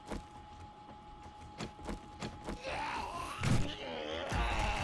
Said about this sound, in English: I hear more zombies, but I don't see them.